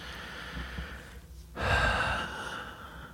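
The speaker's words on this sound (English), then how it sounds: "Nice deep breath." One deep, close breath: a drawn-out inhale, a short pause, then a fuller, louder exhale over a faint background hiss.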